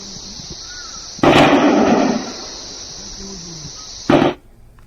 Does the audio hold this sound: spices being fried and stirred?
no